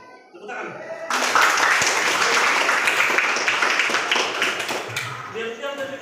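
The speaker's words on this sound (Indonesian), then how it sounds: "Mantap. Tepuk tangan." A class applauds during a lesson, breaking into a burst of dense clapping that swells after a second, holds for several seconds, then fades as voices return at the edges.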